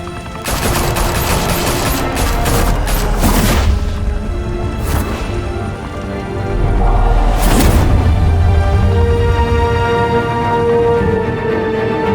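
Gunfire erupts in the Batman: The Telltale Series video game, loud rapid bursts of shots and booming impacts in a dense fusillade, followed by a sustained roaring rumble and further crashing blasts.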